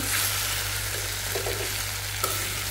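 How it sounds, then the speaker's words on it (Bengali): Potatoes fry in a pan with a steady, close sizzle and crackle, occasionally stirred, with no talking. "অল্প করে একটু আলু ভাজি করতেছি"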